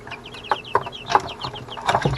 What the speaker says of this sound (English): These are New Hampshire red hens.